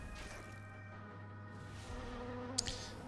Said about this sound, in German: Mit dem machen wir als nächstes diesen Fliegenschwarm.